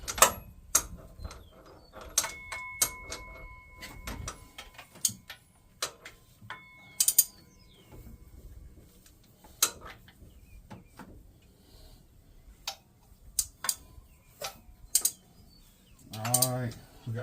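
Ratchet wrench clicking in short bursts while turning an LS engine over to prime it with oil, sharp close pawl ticks with pauses between strokes and a brief low rumble near the end.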